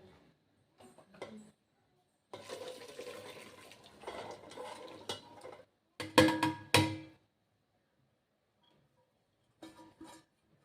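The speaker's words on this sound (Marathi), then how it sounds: "आता आपण पाणी सगळं नितळून घेऊयात" Water drained from cooked vegetables through a sieve into a pot arrives as a few seconds of splashing pour, with a louder burst of trickling near the middle. Brief quiet clinks and drips come before and after.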